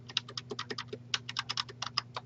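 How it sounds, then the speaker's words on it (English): Keyboard arrow keys are tapped while moving between cells in an Excel spreadsheet, a quick run of about twenty crisp, close clicks in uneven bursts over a low steady electrical hum. "you can go like this with your keyboard arrows"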